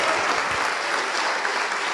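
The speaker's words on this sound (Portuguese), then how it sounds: "vamos aplaudir." Continuous, dense applause from a church congregation, a full, even roar of many hands clapping close by with no voices rising above it.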